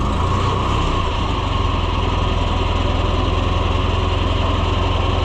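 A John Deere tractor engine running nearby at a steady, rough idle, loud and continuous throughout with no talking.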